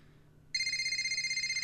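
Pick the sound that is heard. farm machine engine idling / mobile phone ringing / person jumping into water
mobile phone ringing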